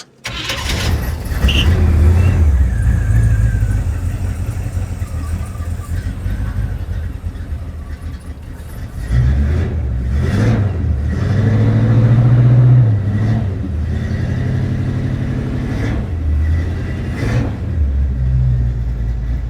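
A 1969 Camaro Z/28 engine turns over and starts with a deep, rumbling idle, then revs up several times in loud surges before settling back.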